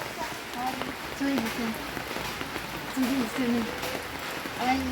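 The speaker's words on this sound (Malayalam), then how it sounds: "ഇന്ന് മഴയല്ലേ" Steady rain patters on surfaces all around, a continuous soft wash under faint background voices and a few chirping sounds.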